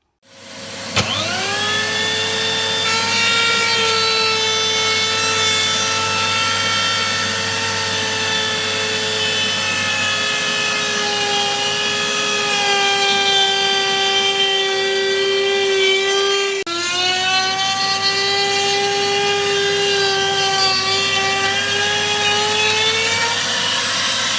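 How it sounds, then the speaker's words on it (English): A power cutter cuts wood along a guide: a steady, loud, high motor whine with strong tonal overtones holding for over twenty seconds, one brief dip in pitch partway through, with no voices. "So the cutter will follow the edge of the wood."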